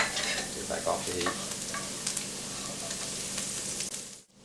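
Butter melts and sizzles loudly in a hot pan set for morels, a dense steady crackle that cuts out abruptly at the end.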